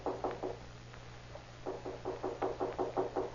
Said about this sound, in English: Then at the home of Aligo Ortega, a feeble knock is heard at the door.